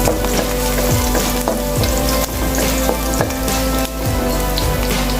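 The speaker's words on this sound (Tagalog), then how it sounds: "Lagyan na natin yung bawang. Pupulahin natin yung bawang." Garlic frying in hot oil for a Filipino dish, a steady close, loud sizzle with crackling pops and occasional stirring scrapes running throughout, no talking.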